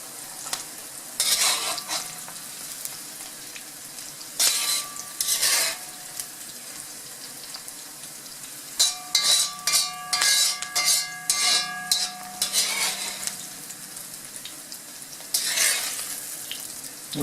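Onions frying in a pan beside a potato, ham and mushroom bake, a continuous soft sizzle broken by bursts of spatula scraping and clinking against the pan as pieces are stirred and lifted out, close up with no talking.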